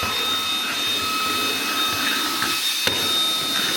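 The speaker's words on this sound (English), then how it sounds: "It just makes it so much easier to vacuum the stairs with something so small." A small handheld vacuum cleaner runs while vacuuming stairs, giving a steady whining drone with a high tonal hum and slight shifts as it moves, with one brief bump near the end.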